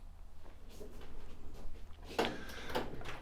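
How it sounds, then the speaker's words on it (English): A soft-close drawer in a garage storage unit slides and thuds shut softly, followed by a second gentle bump as it settles closed, with quiet background hum. "Soft close drawers, which I like, so you hit them in and then it just kind of sucks it in"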